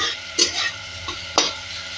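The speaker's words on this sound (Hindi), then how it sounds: "इसको अच्छी तरह से आप मसालों के साथ भूनिए" Masoor lentils stir-fried with spices in a pan for Bihari-style kadhi masoor sabji: a few close scraping stirs come in short bursts over a faint, steady sizzle, with no talking.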